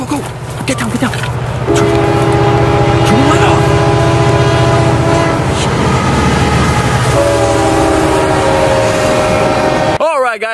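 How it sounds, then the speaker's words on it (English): A train passes close beside an abandoned factory, its horn blaring in a long, loud, sustained blast over heavy rumbling for most of the stretch, then cutting off abruptly near the end. "The train's coming."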